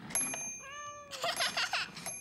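A voice imitates a cat, giving a drawn-out high meow with a rising and falling pitch amid cartoon sound, followed by brighter cartoon chatter.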